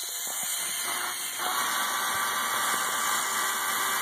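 A Lego CVT driven by an electric motor, running with a steady high whine and hiss that stays constant and close throughout, with faint clicking gear noise underneath.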